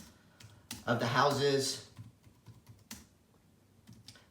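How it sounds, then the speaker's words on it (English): Quick, light clicks of keys being typed on a computer keyboard, scattered in a loose, uneven rhythm, partly under a person speaking briefly at the start. "I'm going to type the information that they gave us"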